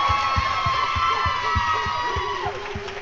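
An audience at an uplifting talk applauds and cheers, with steady rhythmic clapping and crowd noise over a sustained musical tone, loud and close throughout.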